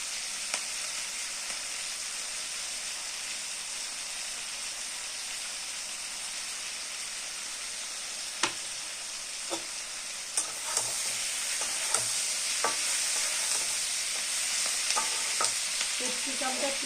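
Capsicum frying with tomato in a pan for chilli paneer, a steady close sizzle with stirring scrapes and clicks picking up in the second half.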